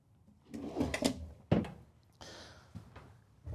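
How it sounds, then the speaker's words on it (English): Several soft thuds and a muted knock as soft-close drawers slide shut in a 2025 Renegade Valencia 36SB motorhome, with a short rustle between, fairly close and quiet. "And all of these are soft close."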